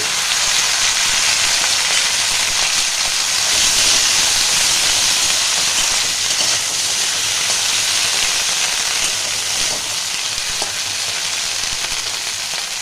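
About 300 grams of salted okra fry in hot oil, a loud, dense, steady sizzle and hiss that holds close throughout, with only light stirring and no speech.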